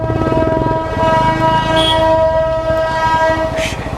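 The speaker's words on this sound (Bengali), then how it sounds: "এই যে টয় ট্রেন আসছে" A Darjeeling toy train horn blows a long, steady multi-tone blast close by, over the low rumble and clatter of the slow-moving approaching train.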